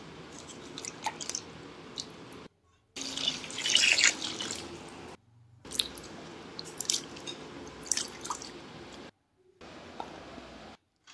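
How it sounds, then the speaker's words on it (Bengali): Peeled ridge gourd and other vegetables for a light vegetarian potato and drumstick dish are rinsed under water, with close drips, splashes and wet squishes in short bursts broken by abrupt silent cuts. "সমস্ত সবজি আমি ধুয়ে তুলে নেব। এবার ঝিঙেটা ধুয়ে কেটে নেব।"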